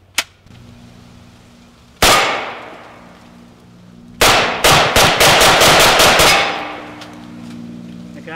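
Carbine gunfire from a Hi Point and a Tommy gun: a faint early shot, then a single loud close blast, and later a rapid string of about eight sharp reports ringing out one after another, with brief talk beneath.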